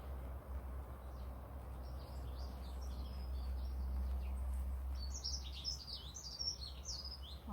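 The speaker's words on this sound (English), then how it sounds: "Oh, I can hear the birds." Birds chirp and sing outdoors on a farm, their bright calls steady in the background and growing busier and closer toward the end, over a low rumble of ambient noise.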